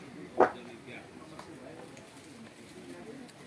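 A single short bird call, pigeon- or dove-like, rings out once near the start of an outdoor fishing outing, then gives way to low background murmur and distant voices.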